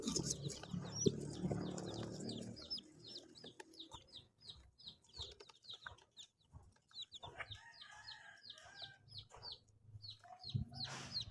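Isa Brown chicks in a closed brooder give a dense run of high, repeated peeps, near and fairly loud, with a low rumble early on.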